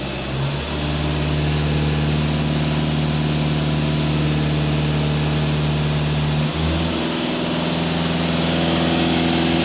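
VW Passat B8 2.0 TDI diesel engine running steadily during system adaptations, a droning idle with a brief rise in revs near the start and again later, close and continuous with no talking.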